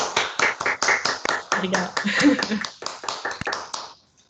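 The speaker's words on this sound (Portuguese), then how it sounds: "saudar a companheira Tatiana agora com a nossa salva de palmas" Scattered hand clapping from participants on a video call, uneven and overlapping bursts at close range, with a voice speaking briefly among the claps.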